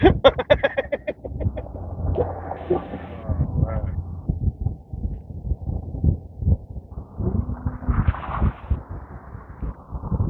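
Birds squawk and cackle in a noisy burst at a shoreline fishing spot, with people talking loudly over and between the calls.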